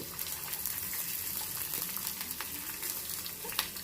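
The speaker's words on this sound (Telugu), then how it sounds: "జీలకర్ర కొద్దిగా వేగిన తర్వాత ఇందులో ఈ వెల్లుల్లిపాయలు వేసేద్దాము" Garlic added to hot oil with cumin and dried red chillies sizzles and crackles steadily at close range, with small pops and spatters throughout and no voices.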